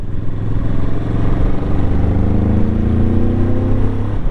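A Moto Morini Corsaro 1200 ZT motorcycle engine hums loudly and steadily, its pitch climbing gradually as the revs rise to around 4000 rpm, with no voices present.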